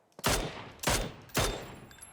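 Three loud gunshots ring out in the PUBG video game, evenly spaced about half a second apart, each a sharp crack followed by a short decaying echo, with no talk over them.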